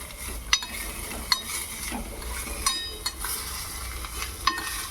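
Noodle-dish ingredients with capsicum fry in a pan with a steady sizzle, broken by several sharp scrapes and knocks of a spatula being stirred against the metal.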